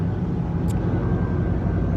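An airplane flies over, heard as a loud, steady broadband rumble that fills the whole stretch with no voices over it.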